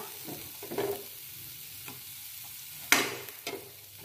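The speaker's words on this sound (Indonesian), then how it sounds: "Terus ini kasih minyak dikit aja, ditumis ya" Sliced chili sautés in a little oil, giving a quiet sizzle with intermittent scraping stirs and one sharper clack of a utensil against the pan, close up and without talk.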